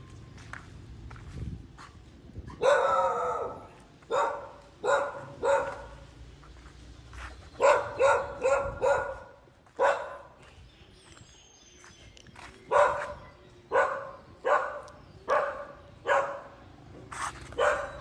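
Several dogs bark at a Buddhist temple, Wat Phang Yoi in Saraphi, Chiang Mai, in repeated short bursts and clusters of sharp barks at moderate distance, with soft footsteps and outdoor ambience between them.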